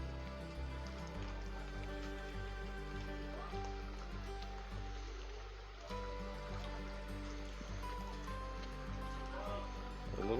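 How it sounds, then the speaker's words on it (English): Small waterfall on the Sipsey River in Alabama, a steady broadband rush of falling water that holds constant through the whole stretch, moderately close, with no talk over it. "A little bit of a waterfall over here."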